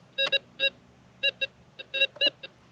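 A metal detector sweeping over a rock while prospecting for gold in Arizona gives short, clear electronic beeps in uneven bursts, close and moderately loud with quiet pauses between them.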